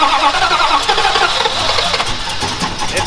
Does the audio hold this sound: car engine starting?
yes